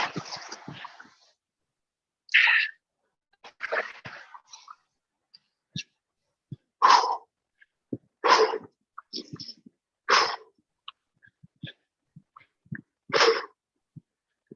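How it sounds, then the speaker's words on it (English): A runner breathes hard during a 5K charity race, with a series of sharp, separate gasps and puffs broken by short silences, close to the microphone. "You guys can hear me breathing."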